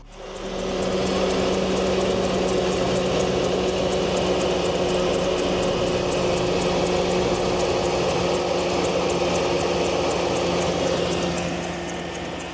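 A 1999–2007 GM truck engine started after a heater hose connector repair and left idling, a loud steady close rumble with a fine rapid ticking running through it, no talking.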